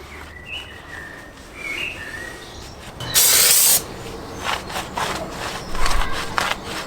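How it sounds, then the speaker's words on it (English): Brake and clutch parts cleaner sprays in one loud, close hiss lasting under a second, on custom car mats for a Mk2 Focus ST. A few faint outdoor chirps sound before it, and quieter rustling follows. "Brake and clutch parts cleaner, as you can see."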